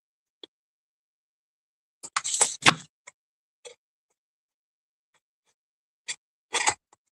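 Scissors snip a paper box flap in a quiet room, two short bursts of crisp close cuts with a few light ticks between them and no talking.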